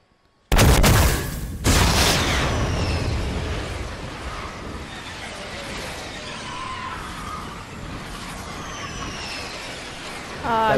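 A guided missile launches in the game Fortnite with a loud, sudden blast, then a sustained rushing roar that holds steady and slowly thins for several seconds before a fresh burst at the end.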